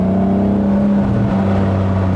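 A classic Aston Martin DB4 engine drones loudly from close by as the car drives through curves, holding a steady rumbling pitch that dips slightly partway, with no voices.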